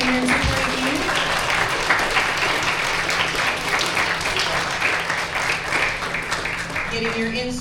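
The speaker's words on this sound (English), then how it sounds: "can you guys give them a round of applause for coming here and supporting you?" Sustained applause from a school concert audience fills the room, a dense, steady wash of many hands clapping at close range with no break.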